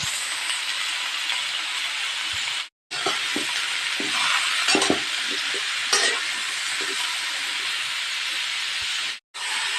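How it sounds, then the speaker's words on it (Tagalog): Garlic, onion and ginger sautéing in a pan with squash and bitter melon give a loud, steady hiss close by, broken by two short silences. "Igisa natin ang bawang, sibuyas at luya."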